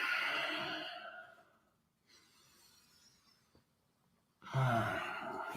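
A long audible exhale during a yoga-style breathing exercise synchronized with movement, fading out, then quiet breathing, followed by another strong breath near the end.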